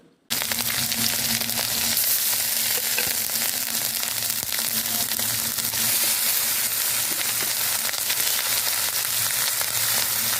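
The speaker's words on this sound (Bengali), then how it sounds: "এবার এই তেলের মধ্যে আমরা শুকনো লঙ্কা ও পেঁয়াজ কুচি ফোড়ন দিয়ে দেব।" Dried red chillies and chopped onion sizzle in hot mustard oil in a village-style dried fish curry. The frying is loud, close and continuous, a dense crackling hiss that runs unbroken through the whole stretch.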